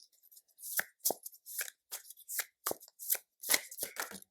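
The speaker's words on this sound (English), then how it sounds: "This deck is a little difficult for me to shuffle." Tarot cards shuffled by hand, a deck that is hard to shuffle, giving a string of separate crisp riffling bursts and snaps in an uneven rhythm, close and clear against silence, with no talking.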